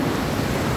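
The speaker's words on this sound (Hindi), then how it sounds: "और ये बहुत ही फेमस बीच है, देखिए पानी की लहरें कैसे आ रही है" Ocean waves washing ashore at R K Beach in Visakhapatnam, a brief steady rush of surf and wind noise, loud and close, with no voices heard.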